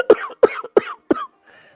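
An elderly man coughs four times in quick, harsh bursts, close and loud, ending with a faint wheezy breath.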